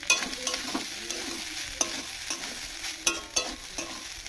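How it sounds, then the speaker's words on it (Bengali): Rice with fried dried vegetables is stir-fried in a wok, giving a soft sizzle under repeated scraping stirs at an uneven rhythm, close and fairly quiet. "এই ভাতটাকে আমি ফ্রাই করব।"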